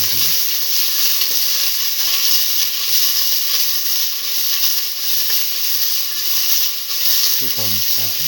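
Shallots and garlic sizzle with salt in a hot pan while they sauté, a steady close frying hiss running throughout with faint stirring scrapes near the end.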